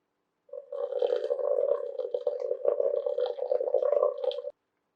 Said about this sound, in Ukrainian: І повільно доливаю ще 250 мл гарячої води